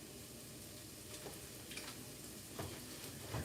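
Sesame oil sizzles quietly in a pan, a faint, steady hiss with a few soft clicks and spits rising over it.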